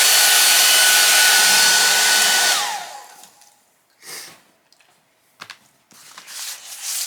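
A hair dryer blows on wet paint on a canvas with a loud, steady whir that winds down and shuts off, leaving quiet handling sounds and soft knocks.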